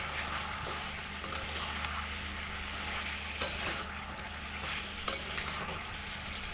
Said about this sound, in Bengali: আর 5 মিনিট আমি একটু ভেজে নেব,